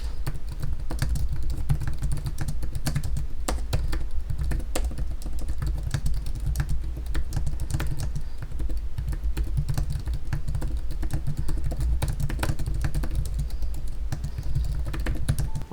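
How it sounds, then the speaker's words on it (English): Steady, continuous typing on a low-profile scissor-switch keyboard of a Logitech Slim Folio iPad keyboard case, soft quick clicks in a dense rhythm throughout, close up with no talking. "Here's a sound test to show you what they sound like."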